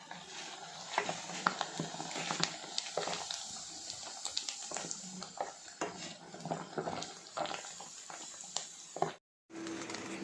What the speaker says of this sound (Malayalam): ഇനി നമുക്കിത് വറുത്തെടുക്കണം.